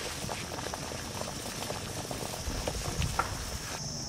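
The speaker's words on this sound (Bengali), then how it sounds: "আর এদিকে জলটা ফুটে উঠেছে" Water bubbling at a rolling boil in a cooking pot on the stove, with a steady close bubbling and popping that carries on evenly with no voices.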